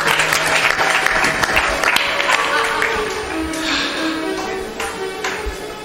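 Audience at a Hindu satsang gathering claps loudly and steadily in dense, sustained applause, with a few faint voices mixed in throughout.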